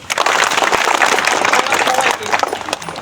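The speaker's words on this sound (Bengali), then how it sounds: "আপনাদের সবার জন্য সবার কাছ থেকে একটা করতালি আশা করতেছি" School students clapping together on a campus during a clean-up event, a dense, steady burst of applause close by that fades out after a few seconds.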